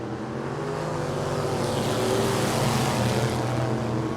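Factory stock race cars racing at Tulsa Speedway, a dense, steady engine roar from several cars that swells slightly as they pass, loud and continuous with no talk.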